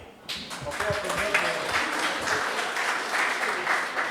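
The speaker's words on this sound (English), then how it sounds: "On peut applaudir. On peut applaudir." An audience at an Africa Day panel event applauds after a question session, a full, steady round of clapping that starts abruptly, with voices speaking over it at first.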